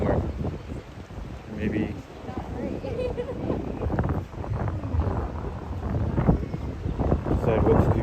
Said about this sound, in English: It's actually a nice day. Just windy.